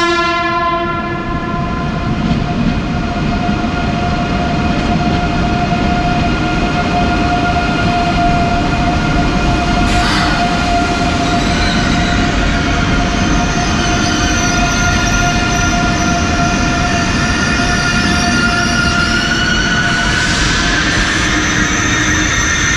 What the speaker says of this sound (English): now we can take a look at the arrival of my train today